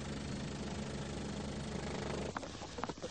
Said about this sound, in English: It's someone cutting the grass.